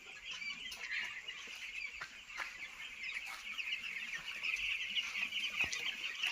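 Chickens in a poultry shed on vaccination day cluck and chirp as a dense, steady flock chorus that runs throughout, with a few sharp clicks and no talking.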